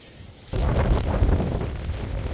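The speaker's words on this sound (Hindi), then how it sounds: "हवा बहुत तेज हो रही है" Strong mountain wind gusts suddenly and roars steadily against the microphone outdoors, a dense rushing noise that holds loud after a quieter start.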